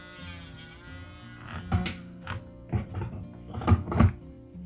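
A small electric nail drill whines with a thin, steady motorized buzz while it files and shapes a polygel nail, broken by several soft thuds and scraping contacts at close range.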